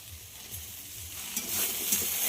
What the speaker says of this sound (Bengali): পেঁয়াজ কলিটা শিম আর আলুর সঙ্গে ভেজে নেব।